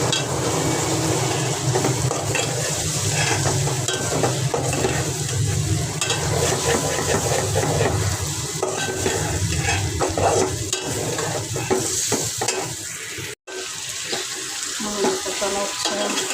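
Potatoes sauté in a pan with a loud, dense sizzle throughout, broken by scraping stirs of a spoon, with a brief dropout near the end.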